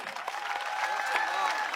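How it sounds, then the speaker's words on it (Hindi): Brief, steady clapping from a school audience for the management, moderately loud and continuous for under two seconds. "तो एक बार जोरदार तालियां होनी चाहिए मैनेजमेंट के लिए।"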